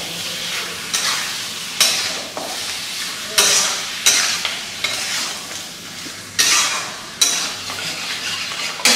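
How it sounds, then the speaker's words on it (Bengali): Mutton, about 550-600 grams, fried and stirred with spices in a wok: a steady oily sizzle broken by sharp scraping stir strokes roughly every second, close and loud, with no talking. "ভালোভাবে কিন্তু মাটনটাকে কষাতে হবে।"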